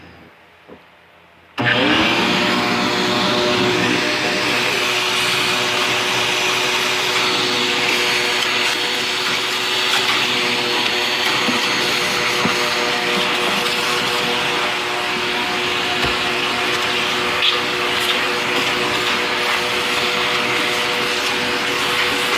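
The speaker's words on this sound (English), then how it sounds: "I gotta grab this shop vac." A shop vacuum switches on after a short quiet moment and runs steadily for over twenty seconds, a loud continuous whine and roar with a constant motor hum throughout.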